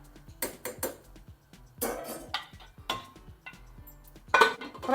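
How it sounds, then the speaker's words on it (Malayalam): A pot of rice cooking with salt is stirred, and a metal spoon knocks and scrapes against the pot in several quick, uneven clinks and clatters up close. Between strikes the kitchen is fairly quiet and nobody speaks. "ഇതൊന്ന് ഇളക്കാം. ഇതിവിടെ കിടന്ന് വേവട്ടെ"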